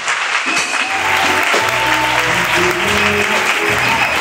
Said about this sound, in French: Acclamation à Jésus-Christ